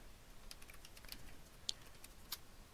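Faint, sparse clicks of typing on a computer keyboard, a handful of light key taps spread over a few seconds in a quiet room.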